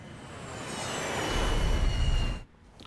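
Several F-15 fighter jets in the Ace Combat 7 air-combat game roar past, a broad jet rush swelling over about two seconds, then cutting off abruptly to a quieter background.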